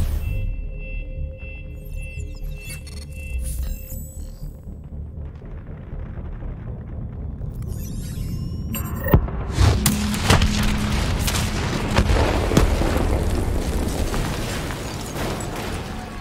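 Detonated explosives blow up in Call of Duty: Black Ops 3, a loud sudden blast that follows quieter beeping tones and gives way to a long rumbling, crackling roar of debris.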